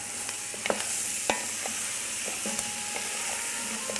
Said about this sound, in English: Saute. Until nicely coated with the spices and with the onion.